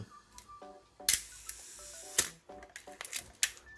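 Olympus OM-1 film camera shutter firing repeatedly across a range of speeds, each sharp mechanical snap close and crisp, with faint clicks and winding between releases and no talking.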